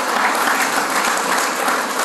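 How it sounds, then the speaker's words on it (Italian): Dense audience applause at an Italian political presentation of Forza Italia and Termoli Insieme-Noi Moderati candidate lists, a loud, even roar of many hands clapping together without a break. "E quindi facciamoci un applauso a chi ci"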